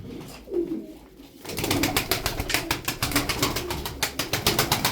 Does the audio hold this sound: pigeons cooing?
yes